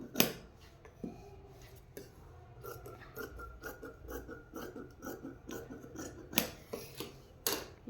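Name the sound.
scissors cutting a cross strip of blouse fabric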